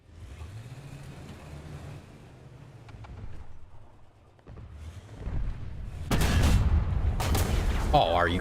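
Heavy gunfire and booming impacts from War Thunder combat, with a vehicle engine rumbling under speaker talk early on, then loud dense bursts of fire and explosions dominating the final seconds.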